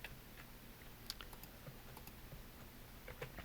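Quiet computer keyboard keys pressed a few at a time in Blender 3D modeling work, faint scattered clicks over a low steady hum.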